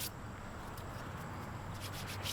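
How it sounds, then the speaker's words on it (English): Palms rubbing together briskly to flake dried carp pack bait off the hands, a steady close dry scuffing that runs unbroken, with a few brighter scratchy bursts near the end. "You can literally rub your hands together"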